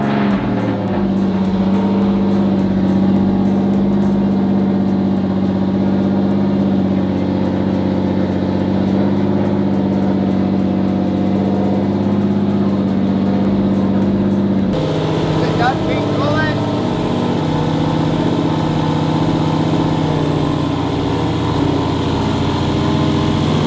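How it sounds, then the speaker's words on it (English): A Subaru STI engine runs and idles continuously in a garage setting, a loud steady rumble with a slight shift in tone partway through and no pauses. "we're gonna see if the STI will move under its own power just out of the garage so I can let it idle"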